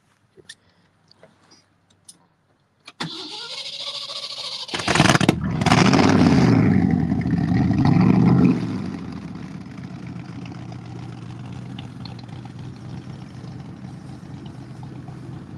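A Ford V8 muscle car engine cranks and catches with a loud burst, revs briefly, then settles into a steady, quieter idle that runs to the end, heard close with no talk.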